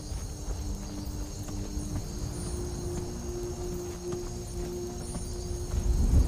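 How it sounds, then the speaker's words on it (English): Heavy plodding footsteps of Lydia, a companion in the game Skyrim, tramping along at a steady pace over a constant low ambient drone, growing louder toward the end. "what the hell is that stomping noise?"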